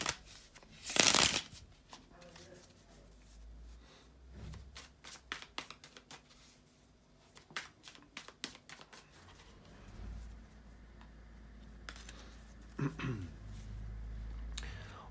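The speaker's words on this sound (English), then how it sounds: "bear with me a second, guys, to shuffle the tarot cards" Tarot cards shuffled by hand at close range, a run of quick crisp riffles and flicks with soft paper slaps and brief pauses, beginning with one louder burst and continuing alone without speech.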